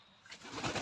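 Cauchois pigeons, an old French breed, coo inside a breeding loft, a soft, close, swelling call with some rustling around it and no talk over it.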